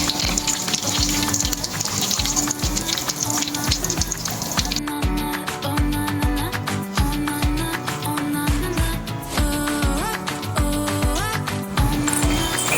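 Prawn cutlets frying in a pan, a steady dense sizzle with crackling bursts, alongside watery tones and some clinking, loud and continuous with no talk.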